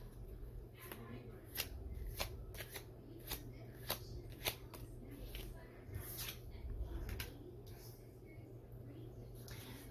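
Tarot cards are shuffled close by in a series of crisp riffling bursts, several sharp flutters spaced through the stretch over a low background hum.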